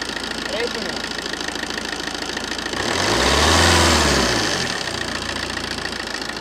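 A diesel car engine idles with a steady low rumble, then revs up once around the middle, swelling loudly before dropping back to idle.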